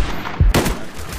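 Gunfire in the video game Call of Duty: Black Ops, with a sharp shot burst that rings out loudly over a steady game background, followed by softer rumbling ambience.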